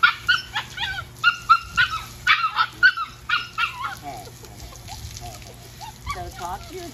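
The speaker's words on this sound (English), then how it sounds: "This is totally normal behavior for a puppy to fuss." A Samoyed puppy whimpers and yips in a rapid run of high, fussy cries, close by, then a quieter stretch of whining over steady background noise, outdoors during grooming.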